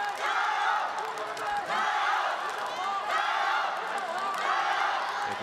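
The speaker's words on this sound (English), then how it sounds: "You can hear the crowd cheering for hometown Zhaohua Wu." Arena crowd at a world wushu championship cheering for a hometown Chinese athlete in men's daoshu, a sustained roar of voices with whoops and shouts swelling and easing, with a commentator's speech running over it.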